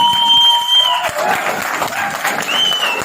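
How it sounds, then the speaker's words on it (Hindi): A seminar audience in Gaya claps loudly for a speaker's welcome, with dense, sustained applause and some crowd noise and a voice heard over it. "खड़े होकर जोरदार तालियां मेरे स्वागत के लिए"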